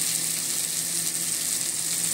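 Ingredients for pork chops with bell pepper toast in a pan with a bright, even sizzle. The hiss holds steady and fairly close throughout the brief moment, with no talking over it.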